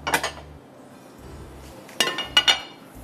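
Chicken box patties being set down one by one on a plate in a home kitchen, giving a few short, sharp ceramic clinks in two bursts separated by a quiet pause.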